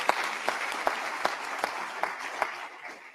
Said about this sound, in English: I think the applause is well merited because many of you had interactions with her.